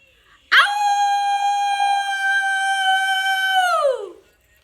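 A person imitates a wolf with one long, sustained howl that swells in abruptly, holds steady for several seconds and then drops away at the end, loud and close with no other sound.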